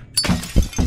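A thrown object shatters in Kill It With Fire, a sharp, close crash of breaking glass followed by two heavy thuds of falling pieces in quick succession, loud and with no talk.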